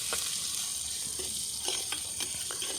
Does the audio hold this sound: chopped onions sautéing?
yes